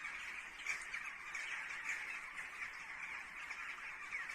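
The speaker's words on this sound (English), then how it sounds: "in the morning when the sun comes up, these birds are going ballistic" Birds squawk loudly and continuously at sunrise, a busy overlapping chorus of harsh calls with no let-up, heard from some distance.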